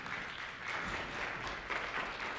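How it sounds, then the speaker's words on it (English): Audience applause at a 2015 American Heritage Scholarship Program gathering, honoring a speaker after a talk on jury trial history: a steady, soft wash of clapping lasting a couple of seconds, heard from a distance. "Round of applause for Mr."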